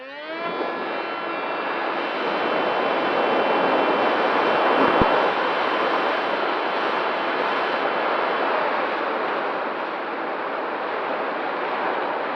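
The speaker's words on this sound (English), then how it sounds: "Okay, the plane is up and flying." A University of Minnesota aerial survey plane flies overhead, its steady broadband engine and propeller drone loud and continuous throughout, with no voices.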